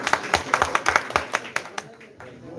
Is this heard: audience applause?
yes